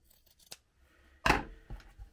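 Scissors trim the edge of felt for a chunky needle book insert, making a few close, quiet snips and one louder crisp cut, with silence between them.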